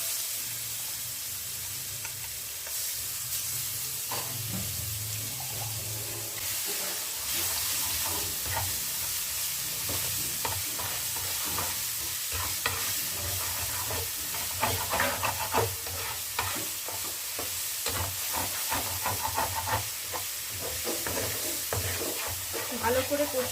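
Ginger sautéing in hot oil with dried red chillies, fenugreek and cumin seeds, a steady sizzle and frying hiss with intermittent stirring scrapes and clinks, close and continuous throughout.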